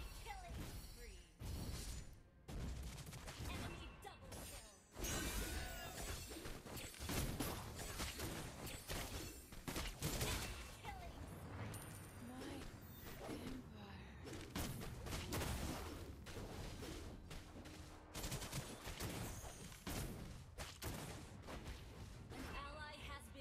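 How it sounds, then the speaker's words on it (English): Mobile Legends game battle as a turret comes under attack, with dense, continuous crashes, blasts and clashing effects, loud and busy throughout, with a game voice announcement over the action. "Our turret is under attack."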